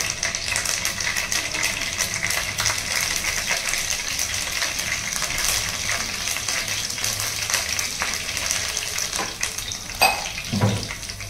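Cumin seeds and curry leaves fry in hot oil with a steady, close, crackling sizzle, broken near the end by a few sharp pops and clinks.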